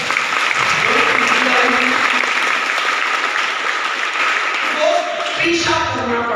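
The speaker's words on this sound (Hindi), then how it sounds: "एक बार जोरदार तालियां" An audience at a transformation training seminar breaks into loud, sustained applause for visiting families, dense clapping filling the whole stretch, with a faint voice or tonal sound surfacing near the end.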